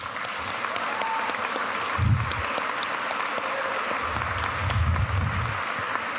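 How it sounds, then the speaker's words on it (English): A crowd applauds steadily throughout at a Martin Luther King Jr. celebration, a dense wash of many hands clapping at moderate volume, with a few brief low voices underneath. "we have to give a big round of applause for Danelle Damon and Greater Works."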